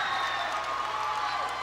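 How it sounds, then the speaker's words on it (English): Crowd noise at a boys high school basketball game, Alchesay Falcons versus Winslow Bulldogs, roaring steadily and fairly loud during free throws, a dense, even wash of cheering and clapping with no pauses. "Huge ALCHESAY crowd here is really making these free throws tough for the home team."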